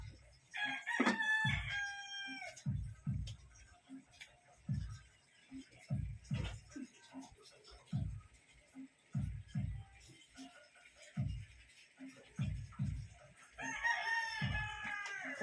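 Roosters crow near the start and again at the end while live chickens cluck, over repeated knocking kitchen sounds as chicken afritada is prepared.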